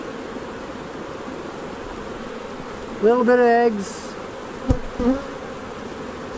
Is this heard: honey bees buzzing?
yes